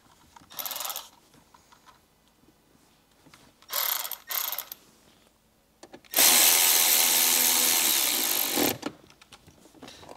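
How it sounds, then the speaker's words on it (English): Hand ratchet tightening 7 mm bolts into plastic mounts on a Jeep Wrangler radio screen, heard as two short bursts of clicking followed by a longer, louder continuous run of rapid clicks, close and otherwise quiet. "now all we have to do is bolt our screen in with those 7 millimeters that we pulled out"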